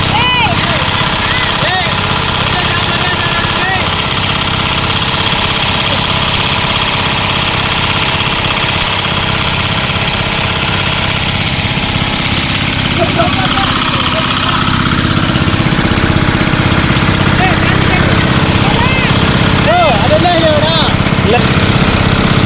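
Two engine-driven pumps run nearby, drawing water for a fish pit, with a loud, constant mechanical drone that never lets up, while voices talk over the noise.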